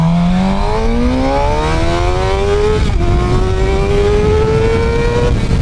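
A Suzuki GSX-R 600 motorcycle accelerates hard on a race track, its engine pitch climbing steadily through the gears with a brief shift dip, loud and close throughout with no talk.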